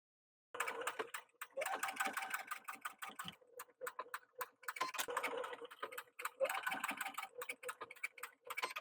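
A home sewing machine runs fast, stitching a 0.7 cm seam where a shoulder bag strap joins the side seam; close bursts of rapid clicking with brief pauses between runs.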